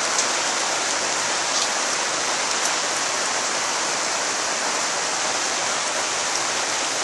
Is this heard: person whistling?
no